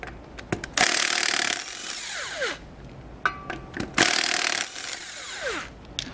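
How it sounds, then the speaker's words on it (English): A power tool with a 3/4-inch socket spins lug nuts off a trailer wheel during a disc brake kit installation on a 2019 Grand Design Momentum. Two loud whirring bursts are heard up close, each followed by a falling wind-down, with clicks between them. "We'll remove the lug nuts using a 3/4-inch socket."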